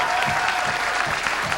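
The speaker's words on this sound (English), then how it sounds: "And a nice round of applause for Jason" Applause from a bowling crowd at a professional tournament, a short steady patter of clapping heard from a moderate distance without any voices.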